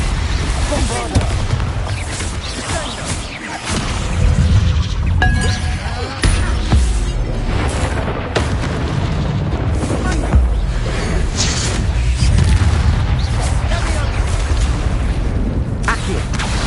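Repeated Bombarda blasting-spell explosions in the Hogwarts Legacy game, heavy booming bursts one after another in a dense, continuous battle din with voices calling out spells over it.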